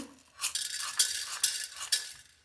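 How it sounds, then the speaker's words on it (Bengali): Cumin, coriander seeds and dried chilies are stirred in a dry pan as a few brisk, rhythmic scraping and rattling strokes, close and fairly soft, with no talking. "জিরে, শুকনো লঙ্কা, ধনে, এটা একটু শুকনো খোলায় নেড়ে নেবো"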